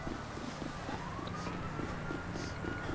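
Police siren from GTA V pursuing the player, a faint rising-and-falling wail carried over a constant windy rumble and vehicle noise, no voices.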